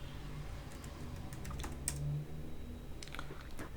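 Rapid clicks of a computer keyboard as a command is typed into a terminal, closing with a firmer keypress for enter, close and clear over faint room hum.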